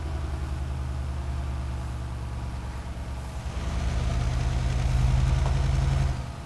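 A Kenworth W900 truck with a Detroit diesel engine idles in Euro Truck Simulator 2, a steady, deep, loud rumble that swells slightly midway and holds before easing off near the end, with no voices.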